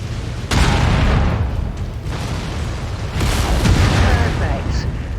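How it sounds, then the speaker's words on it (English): A generator exploding in the video game MechWarrior 5: Mercenaries, a loud, sustained deep boom and rumbling blast that swells again midway, dense with crackling debris, heard alone. "With the generator blown, the turret should be disabled now."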